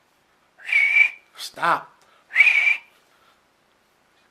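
Two loud, sustained whistle blasts, each about half a second long, with a short spoken word and a brief vocal sound between them.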